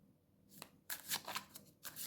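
Playing cards being shuffled, quiet close-up riffling in a few short bursts of crisp flutter and snapping, with no talk over them.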